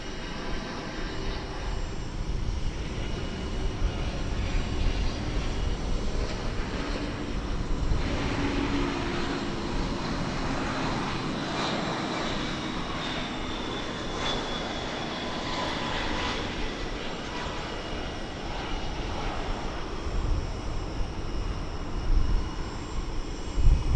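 Airliner taking off from a runway at Dallas/Fort Worth International Airport, its engines building to a sustained roar that swells and lingers as the plane passes, with steady background noise throughout.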